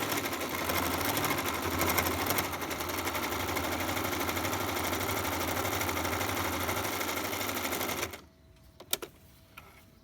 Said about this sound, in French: je peux continuer à coudre